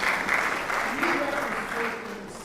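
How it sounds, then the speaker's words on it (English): An audience at a school board of education meeting applauds with steady, dense clapping that fills the room, with some voices mixed in underneath. "All right, one more round of applause."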